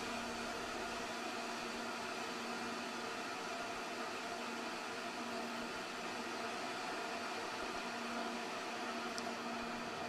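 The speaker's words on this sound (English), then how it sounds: "Felix is depressurizing the Stratos capsule to ambient outside barometric pressure." Steady broadband hiss of air venting from the Red Bull Stratos capsule as it depressurizes at about 127,900 feet, a continuous, even rush that holds at a constant level throughout with no voices.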